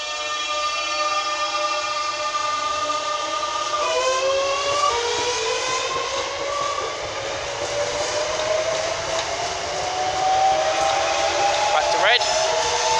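A Class 365 electric train's motors whine steadily as it pulls away from Shepreth station, tones climbing in pitch as it gathers speed, with a brief squeal near the end.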